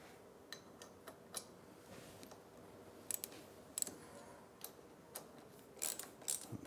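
Handlebar clamp bolts on a 2024 Triumph Speed Twin 1200 being tightened with a ratchet, giving a quiet, close series of sharp mechanical clicks in short irregular bursts over a faint background hiss.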